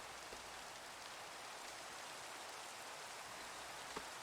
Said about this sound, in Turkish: Yağmur yağması kötü oldu.